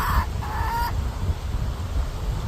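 Chickens cluck softly in a short burst near the start, then a steady background hiss continues without clear calls.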